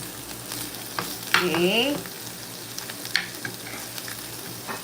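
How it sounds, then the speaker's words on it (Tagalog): Garlic chicken frying in a pan makes a loud, crackling sizzle with scraping as it is flipped. Someone speaks briefly partway through. "Flip na natin ang ating chicken ulit para may flavor."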